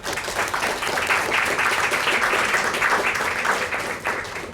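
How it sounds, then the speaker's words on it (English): An audience claps steadily for funders at a talk, a dense, even round of applause from many hands holding for several seconds with no voices over it. "I think they need a round of applause."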